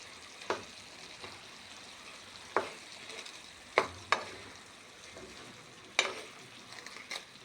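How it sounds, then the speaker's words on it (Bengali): Egg stirred together with vegetables in a frying pan: a low, steady sizzle broken by about six sharp spatula clacks against the pan at irregular intervals, close and with no one speaking. "এই যে আমি ডিমটা এভাবে সবজির সাথে মিশিয়ে দেব।"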